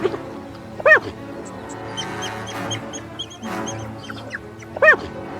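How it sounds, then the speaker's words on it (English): African wild dogs and hyenas on the savannah during a standoff: rising whooping calls burst out twice among a busy chatter of higher yelps and cackles, fairly close and loud with no talk. "The wild dog's frantic howls responded to the wild laughter that echoed from the hyenas"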